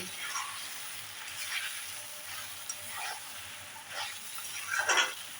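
Idli chilli sizzles and fries in a pan over a high flame while being stirred, a steady soft hiss broken by several scraping stirs, with a louder burst of sizzle near the end.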